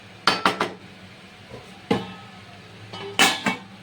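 A metal lid is set on a pot of paneer pulao, with several sharp clanks and rattles in quick bursts separated by quiet pauses, close and without talk.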